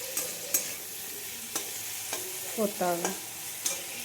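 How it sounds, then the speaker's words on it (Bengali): Spices being lightly sautéed and stirred in a pan, with sparse spoon scrapes and taps against the pan over a faint quiet sizzle, and a brief spoken phrase partway through. "একটু ভালো করে হালকা করে কষিয়ে নেব মশলাগুলোকে"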